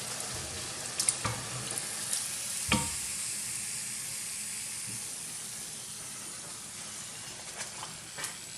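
Onion bhajis sizzle and crackle steadily in hot frying oil, a continuous close hiss with a few sharper pops and clinks of a utensil near the start and end, no voices.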